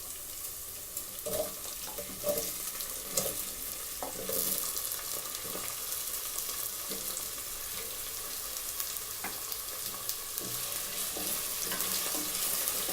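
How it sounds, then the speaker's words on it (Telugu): Potato pieces frying in hot oil for an okra and potato curry, a steady crackling sizzle that runs the whole time with occasional stirring clinks. "సో ముందుగా ఆలుగడ్డ ముక్కల్ని యాడ్ చేస్తున్నాను."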